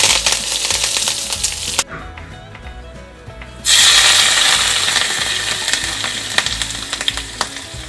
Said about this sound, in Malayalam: നമുക്കിതിലേക്ക് ചൂടാകുമ്പോൾ കടുകിട്ട് കൊടുക്കാം.